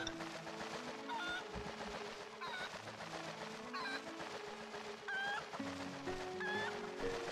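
Cucco chicken in The Legend of Zelda: Twilight Princess clucking in short repeated calls every second or so over steady background game music.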